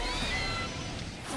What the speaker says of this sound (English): I hear the Meowth and it sounds Alpha.